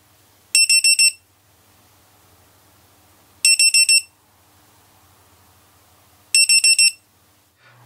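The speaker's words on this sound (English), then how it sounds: "It gives multiple beeps, which I like." A Hellgate lost-drone model beeper sounds three bursts of rapid, high-pitched beeps, each burst about four quick pulses, spaced a few seconds apart over faint background hiss, loud and close.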